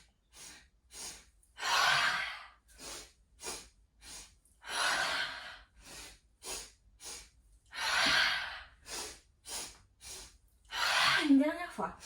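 Deep yoga breaths, with long airy exhales pushed out through the mouth in a slow, steady rhythm, close and soft, separated by short quiet gaps.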